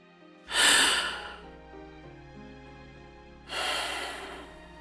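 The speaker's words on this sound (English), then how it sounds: "There was a low gasp in the dark room" A man waking in a dark room lets out a low gasp, then a second breathy exhale a few seconds later, close and soft over a quiet held tone.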